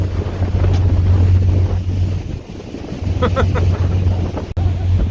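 Boat motoring away from an offshore oil rig at sea at night on the Gulf Coast, a steady low engine drone with wind buffeting the microphone and water noise throughout, plus a few faint higher tones.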